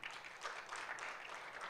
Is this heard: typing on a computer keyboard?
no